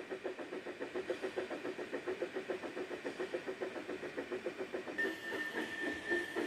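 A steam locomotive in the Trainz video game chuffs along steadily, its rhythmic exhaust beats evenly spaced and fairly loud, with a steady hiss and a higher tone joining near the end.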